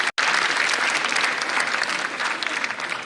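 Conference audience breaks into sustained applause, a dense, even clapping from a large crowd that carries on for several seconds after a brief gap at the start.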